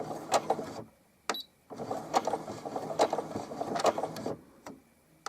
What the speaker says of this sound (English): You do the reverse stitching.